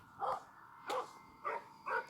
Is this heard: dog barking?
yes